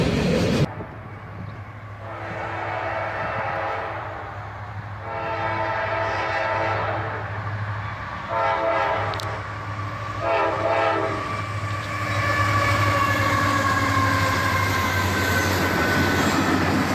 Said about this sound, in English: And a nice little horn show from the engineer, with a YN2 AC44CW leading and a Union Pacific SD70M.